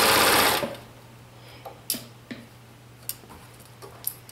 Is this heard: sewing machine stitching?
yes